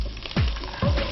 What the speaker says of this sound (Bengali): এখন আমি 4 কাপ মতো চিকেন স্টক দিয়ে দিচ্ছি